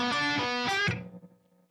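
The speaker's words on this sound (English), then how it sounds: "just a slight bend on that note," A distorted electric guitar note bends slightly upward, then is abruptly cut short and muted, leaving a brief fading ring.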